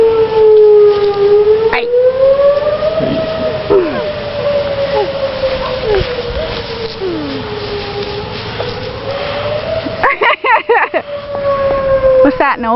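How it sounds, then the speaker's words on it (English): A tornado warning siren wails steadily across Jackson County, Alabama, its pitch slowly rising and falling, loud over rushing wind and rain, with people shouting and talking nearby. "It's a siren For what? for the tornado."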